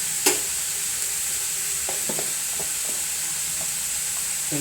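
Spinach, shrimp and grated coconut stir-fry in a pan, giving a soft, continuous sizzle with a few scattered scrapes and clinks of a spatula, close by and without speech.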